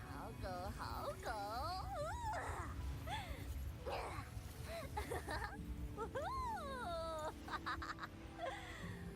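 Whimpering dog in the video game Wuthering Waves, a string of rising and falling whines and yips, fairly loud and close, playing over steady background music and game noise.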